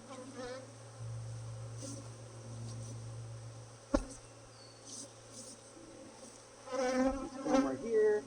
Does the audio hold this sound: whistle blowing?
no